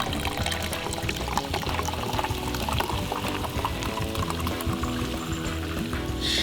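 Soda is poured into a plum dipping sauce, giving a close, continuous fizzing, gurgling pour that runs without a break.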